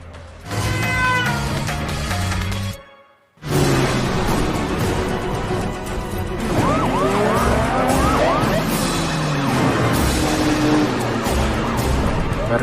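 Car chase from the film Death Race 2: loud, dense action mix of roaring engines, screeching tyres and impacts with a siren-like wail, cut by a brief near-silent gap before the chaos resumes without pause.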